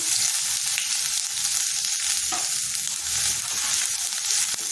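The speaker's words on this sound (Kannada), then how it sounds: "ಬಾಣಲಿಗೆ ಎಣ್ಣೆ ಕಾಯಕ್ಕಿಟ್ಟಿದ್ದೀನಿ ಅದಕ್ಕೆ ಜೀರಿಗೆ ಹಾಕ್ಕೊಳ್ತಾ ಇದ್ದೀನಿ ಅದಕ್ಕೆ ಈರುಳ್ಳಿ ಹಾಕ್ಕೊಳ್ತೀನಿ" Onion and cumin seeds sizzle steadily in hot oil in a home kitchen pan, a dense continuous frying hiss with faint scrapes of stirring, close and fairly loud with no voices.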